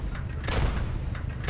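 Tank cannon fire in the video game Panzer, heavy booming shots repeating in quick succession over a dense, loud rumbling background.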